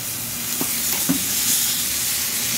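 A thin-cut porterhouse steak sizzles over open flames, a steady close hiss with a couple of brief pops and crackles near the middle, no voices.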